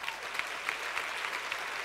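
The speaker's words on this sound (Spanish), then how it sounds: "Denle un aplauso a esos hijos." Steady applause from a church audience, a continuous patter of clapping at moderate distance with no talking.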